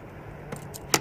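Car keys jangle briefly in a quiet room, a few faint metallic clinks ending in a sharper final rattle over a steady low hum.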